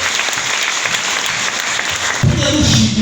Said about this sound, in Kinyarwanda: nabo bakomera amashyi